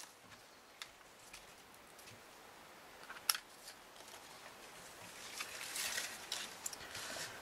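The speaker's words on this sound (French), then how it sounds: "je prends mes petits ciseaux" Small scissors snipping a few times while cutting out a paper-craft tissue box, light crisp cuts spaced apart over a quiet background.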